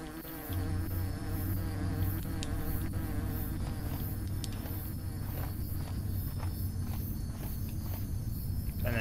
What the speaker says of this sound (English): You can listen to the bees.